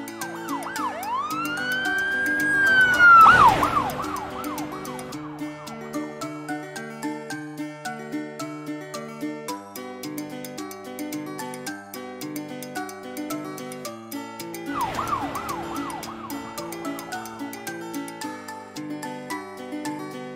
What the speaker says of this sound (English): Police sedan.